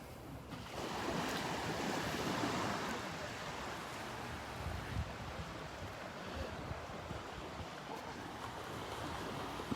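Beach surf at Delnor-Wiggins rolls in as a steady, broad wash of waves with wind noise across the microphone, continuous and moderately loud throughout.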